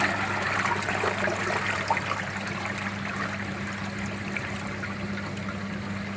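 Water rushes back into a pond filter holding K1 media, a steady close trickling and gurgling flow over a low, constant hum.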